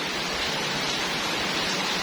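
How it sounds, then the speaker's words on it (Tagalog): Heavy rain pours down in a dense, steady, unbroken hiss of even loudness throughout. "ang lakas ng ulan"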